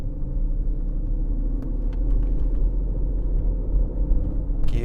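A Mercedes S600 with a V12 engine and a slipping gearbox drives along, giving a steady, loud low rumble from inside the car, with a few faint clicks and a brief rise in noise near the end.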